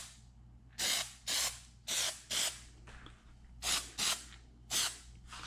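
An aerosol can lays down a light coat of Plasti Dip in a series of short, loud hissing bursts, about seven in a row with brief pauses between them and no talking.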